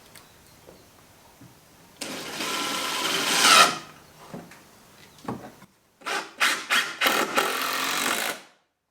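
A power drill drives screws into the wooden boards of a DIY patio string-light post planter box. One long whirring run is followed by a string of short, loud trigger bursts, close up with no talking.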